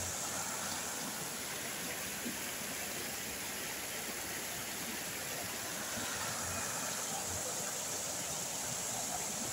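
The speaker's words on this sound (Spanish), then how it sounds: "Este pequeño arroyo crece." A small stream swollen after Hurricane Otis in Acapulco rushes with a steady, broad hiss of flowing water, constant and fairly close, with faint murmurs of talk.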